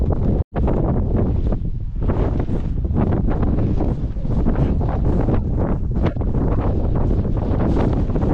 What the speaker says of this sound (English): So, it is a bit windy